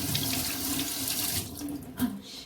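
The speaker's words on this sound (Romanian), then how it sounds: "Să-mi spăl gheruțele." Water from a kitchen tap runs steadily into a sink while hands are washed, a broad, close hiss that breaks up and splashes toward the end as the hands move under the stream.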